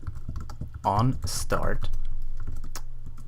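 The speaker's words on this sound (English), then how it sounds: "So I'm just going to start by typing void" Keys clatter on a computer keyboard while a script is written in a game level editor, quick irregular taps running under a man's speech and continuing alone afterward.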